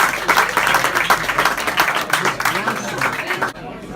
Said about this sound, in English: everybody should give a round of applause for a night like tonight